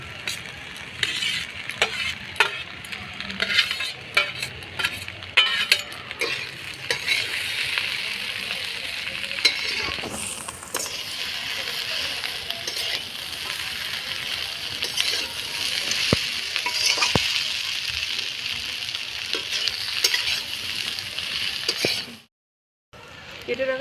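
Prawns and vegetables stir-fry in a pan for Hakka noodles with a continuous close sizzle, broken by frequent clinks and scrapes of a utensil against the pan, and a brief silence near the end.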